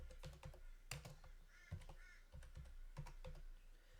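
Keys on a computer keyboard tapped out in quick irregular strokes as a username is typed, close and crisp, with short gaps between small clusters of presses.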